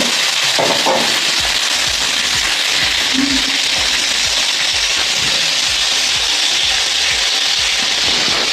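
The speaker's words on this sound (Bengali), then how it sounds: "একটু আদা ভাজা হোক" Ginger fries in a pan with potato and cauliflower, a loud, close, unbroken sizzle and hiss that carries steadily from start to finish.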